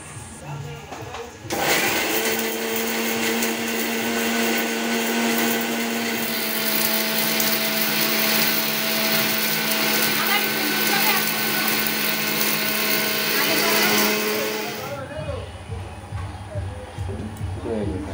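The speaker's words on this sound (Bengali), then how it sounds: "আমি এখন ব্লেন্ডারে এটা গুঁড়ো করে নেব" An electric blender grinds garam masala spices at home during village wedding preparations, a loud, steady motor whine with grinding rattle running about thirteen seconds, starting and stopping abruptly, with faint surrounding noise before and after.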